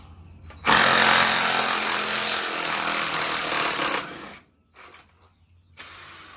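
A power tool, likely an impact wrench, loosens tight bolts on a tractor with a loud, steady hammering burst lasting about three seconds, then a few brief quieter bursts as the bolt comes free.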